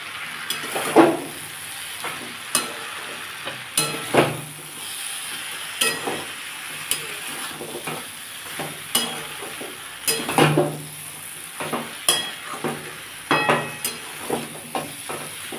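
Bitter gourd, its stems and eggplant fry in a pan of spiced masala, with a soft sizzle under repeated scraping stirs and clinks of a spatula at an uneven rhythm, close and clear.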